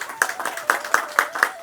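A few people at a literary event honouring writer Madan Mohan Sati clap in a brief, sparse burst of distinct hand claps, close and fairly crisp, with faint speech underneath.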